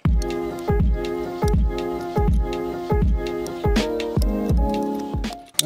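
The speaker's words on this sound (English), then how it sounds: "Got these pipe cutters." Pipe cutters are turned around a pipe, giving repeated close, ringing squeaky strokes in a steady rhythm, about one every half second, with no talking.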